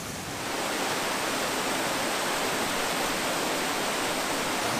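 A river in Argyll flows past close by, a loud, steady broadband rush of water like a small waterfall, unbroken and alone after a brief quieter start.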